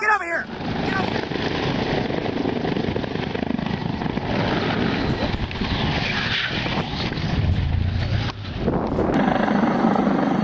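Low-flying water-dropping plane passing over parked cars, a loud roaring engine and rushing wash dominating throughout, with people shouting excitedly nearby.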